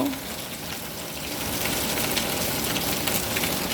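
Rain falling steadily on a Monday morning after pouring all night, a dense hissing patter of drops close by that grows slightly louder partway through.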